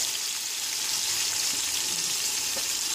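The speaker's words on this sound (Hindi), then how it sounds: "पूरी प्याज इसमें डाल देंगे, थोड़ी से ब्राउन होने तक भूनेंगे" Chopped onions fry in a pot, cooking toward brown, giving a steady, dense sizzle and hiss that stays even throughout with no talking.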